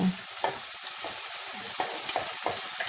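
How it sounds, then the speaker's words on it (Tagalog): Sitaw string beans with pork ribs sautéing in a pan, giving a steady low sizzle with soft stirring scrapes and a few light clinks spread through the clip, close up and with no talk. "Gisa-gisa muna natin, ha?"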